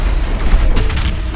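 Triple lock-on rocket volley from the rocket launcher in DOOM Eternal, a dense loud burst of launches and blasts packed into a second and a half over a continuous rumbling low end.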